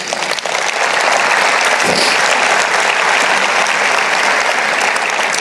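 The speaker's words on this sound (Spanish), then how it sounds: "Un aplauso al Señor." A church congregation breaks into loud, sustained applause, a dense wash of clapping that holds steady for several seconds with no talking over it.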